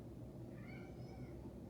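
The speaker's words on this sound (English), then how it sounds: "sorry about my cat in the background." A pet cat meows faintly in the background of a quiet room, producing a couple of drawn-out, wavering cries that sit low under steady room noise, with no talking.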